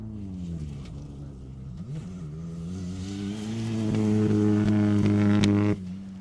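Mitsubishi Mirage rally car driving a Welsh rally stage, its engine droning steadily, then building and revving harder and louder toward the end before cutting off abruptly.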